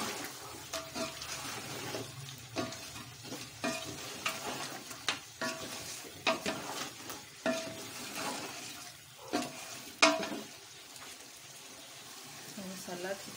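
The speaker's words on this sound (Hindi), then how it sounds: "मसाला अच्छी तरह भून गया" Masala spices frying and being stirred in a pan while cooking a dawat meal, with soft sizzling and intermittent scraping clinks of a spoon against the pan, faint under a quiet kitchen background.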